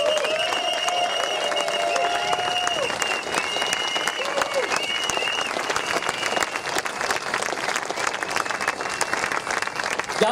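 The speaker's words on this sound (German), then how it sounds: "Applaus!" A rally crowd in Berlin applauds continuously for ten seconds, dense, even clapping with cheers, while whistle-like tones and a voice come through on top.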